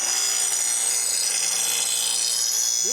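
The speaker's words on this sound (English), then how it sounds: "we're going to use our small little angle grinder here and see if we can do this cutting away much faster" A small angle grinder cuts metal while making a carpet removal tool, giving a loud, continuous high whine that holds steady throughout.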